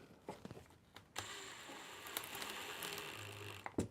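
Black painted screws being driven in, giving a steady gritty ratcheting whir for a few seconds after some light taps and clicks, close and fairly quiet.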